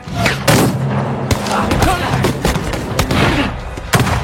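Loud gunfire in a Western cowboy film bursts out in sharp, irregular shots and booms, with heavy thuds and chaotic noise filling the scene between them.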